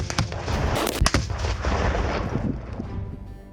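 Tannerite binary reactive rifle targets detonate in a quick series of sharp, loud blasts in the first second or so, followed by a sustained rumbling roar that slowly fades.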